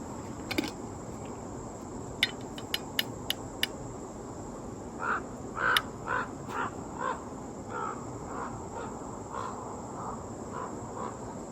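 A crow caws several times outdoors in a snowy setting, harsh calls coming in a loose series over a faint steady insect-like drone, with a few sharp clicks early on.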